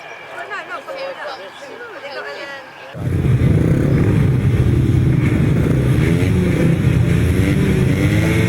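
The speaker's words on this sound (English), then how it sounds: "Revving up on the line then for race number 13, first leg of the Inters." Grasstrack racing motorcycles rev together on the start line before an Inters race, a sudden loud, dense engine roar that holds steady and close after a quieter opening where a commentator talks.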